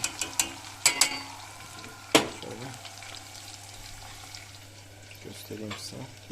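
Pieces of KFC-style breaded chicken frying in hot oil get flipped over, with sharp clattering knocks and scrapes over a continuous soft sizzle and bubbling, close and fairly quiet, with no talk.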